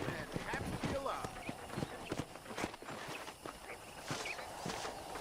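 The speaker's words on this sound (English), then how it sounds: "Hoje é outro cavalo, ó." A horse's hooves clip-clop in a quick walking rhythm within a Western ranch video game, set against ambient game sound while a voice talks over it.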